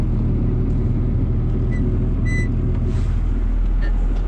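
Vehicle engine idling steadily with a low, continuous rumble while the driver shifts into gear during a snowy day, with a few faint clunks and squeaks near the machine.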